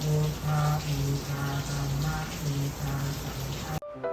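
Steady rain falls in an ancient city in Bangkok, a continuous close patter and hiss of drops that cuts off abruptly near the end.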